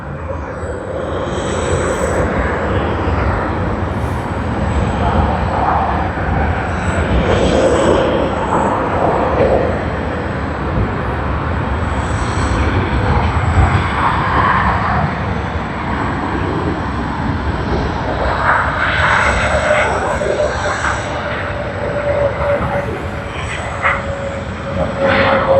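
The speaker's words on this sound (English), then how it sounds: "Hopefully you all will be able to hear the reversers too." Airliner landing at Sydney Airport with thrust reversers deployed, heard as a loud, steady jet roar that holds for the whole stretch at some distance, with no talk over it.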